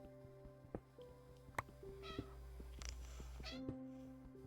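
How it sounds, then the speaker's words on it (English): A pet cat meows a few short times, faint and indoors, over a quiet background of game sounds. "Man, my cat's really being noisy right now."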